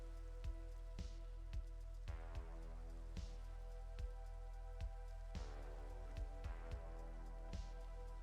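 Rain in modded Minecraft (All The Mods 8) sounds as sparse, irregular droplet taps over a soft, steady musical drone, faint and unhurried.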